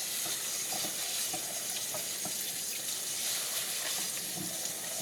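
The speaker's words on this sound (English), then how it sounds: "now we're gonna go over to the sink and rinse the rice" Cold tap water runs steadily into a sink as rice is rinsed of starch, with small splashes and clicks in the continuous rushing flow.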